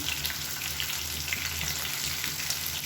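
Brinjal pieces coated in masala sizzle and fry in an open pan, with a steady, even crackle close by and no talking.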